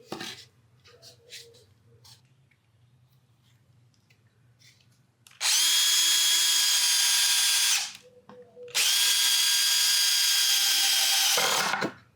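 A power drill drives screws into a wooden horse jump in two long, loud bursts of steady whirring, separated by a short pause, after some quiet handling noise.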